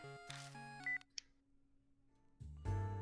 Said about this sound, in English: Oh, cell phone's ringing.